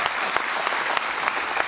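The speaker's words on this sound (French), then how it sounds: "Je vous demande d'applaudir les jeunes et Martine Vassal." A crowd at a mayor's 2024 New Year address in Saint-Victoret applauds steadily, dense clapping filling the whole moment with no voices standing out.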